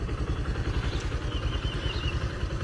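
A Suzuki GSX125 125cc motorcycle with 901 km on it idles on its double stand, its single-cylinder engine running in a steady, even low thrum with slight mechanical clatter, close and alone.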